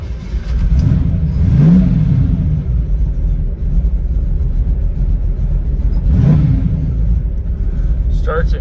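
A 1931 Chevrolet 5-window hot rod coupe with a small block engine rumbles steadily close by, with two brief revs rising and falling, while someone talks over the running engine.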